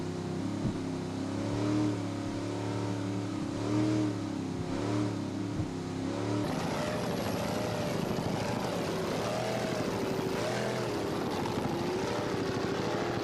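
Loud, steady roar of offshore racing powerboat engines at a race in Ocean City, droning continuously with a shift in pitch midway, close and unbroken throughout.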